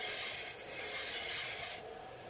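A 1/2 inch woodturning gouge is sharpened, giving a continuous close abrasive hiss and rasp that runs steadily, then drops slightly in brightness near the end, with no talking.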